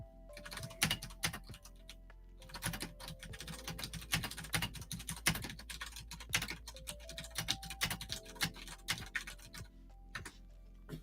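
Quick, irregular clicking of keys on a computer keyboard as a chat message is typed, with bursts of close, crisp taps and brief pauses, no voices.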